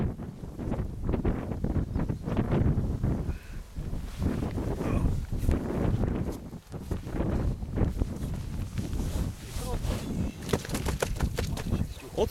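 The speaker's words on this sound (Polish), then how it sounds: "U mnie to wiatr." Strong wind buffets the microphone outdoors in gusty, rumbling bursts that continue throughout, with a voice briefly heard beneath.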